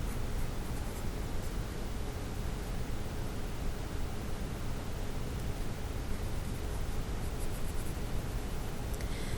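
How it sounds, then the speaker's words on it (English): Steady soft scratching of a 4B graphite pencil shading dark areas on paper, a continuous close, quiet rasp with no voice over it. "I'm using my 4B pencil for that."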